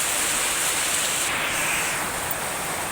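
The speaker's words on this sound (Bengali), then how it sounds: "আর এই যে বৃষ্টিটাও শুরু হয়েছে" Rain falling outside a home in a steady, even hiss that holds throughout at moderate loudness, with no voices and no other sounds standing out.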